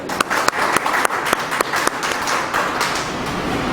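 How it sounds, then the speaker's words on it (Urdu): An audience claps at a poetry mushaira at Pakistan College in Sadiqabad to welcome poet Azhar Faragh. The applause is loud and steady, with a few sharp claps standing out above it throughout. "میں ایک دفعہ پھر پاکستان کالج میں اور صادق آباد میں اظہر فراق کا ویلکم کرتا ہوں، اور آپ زوردار تالیوں میں"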